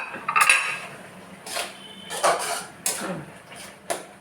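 A spoon stirring pongu curry in a metal pot after coriander leaves are scattered in, a few separate scrapes and clinks against the pot at irregular intervals, close and fairly quiet.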